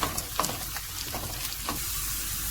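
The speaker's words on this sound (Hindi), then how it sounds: "अब ये लहसुन और मिर्चें जो है वो फ्राई हो चुकी हैं।" Garlic and green chilies fry in a pan for a tempering, giving a steady close sizzling hiss with a few faint stirring clicks.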